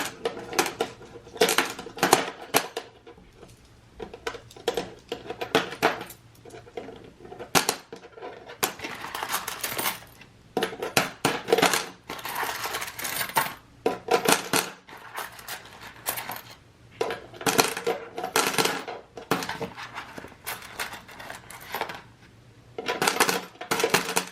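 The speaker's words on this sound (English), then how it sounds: "just take these out and put them in my coin jar" Coins being dropped into a coin jar, handfuls clinking and jingling in repeated bursts with short pauses between, close and bright, going on throughout with no talking.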